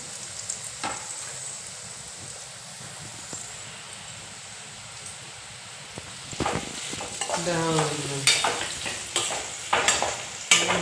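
Onions fry in a pan for a tuna fish curry, a soft background sizzle that turns louder and busier near the end with stirring scrapes and clatter.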